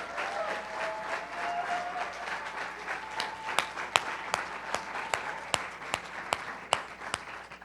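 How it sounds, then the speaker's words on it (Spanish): An audience at a church conference applauds, a dense crowd of clapping that thins out into a few loud, sharp individual claps toward the end, with a faint voice briefly underneath at first. "Dale un aplauso al Señor por ese milagro."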